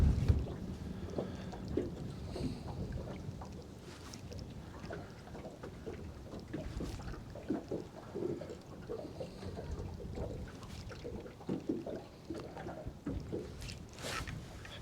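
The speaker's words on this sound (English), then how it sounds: "There's the wind." Wind blowing outdoors on the water during a fishing outing, a steady rough rumble buffeting the microphone throughout with faint splashes and small knocks mixed in.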